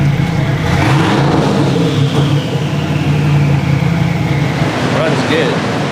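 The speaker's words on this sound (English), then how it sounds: "The car fired right up." Mercedes 190E EVO II widebody on a dyno, its engine running with a steady mid-pitched drone and rising revs, loud and close, with a voice talking over it.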